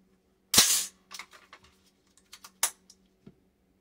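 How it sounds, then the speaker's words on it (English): An AR-15 5.56 rifle magazine is released and pushed back in, giving a loud sharp metallic clack followed by a run of smaller clicks and a second firm snap, close and with no talk. "Release mag, put mag back in."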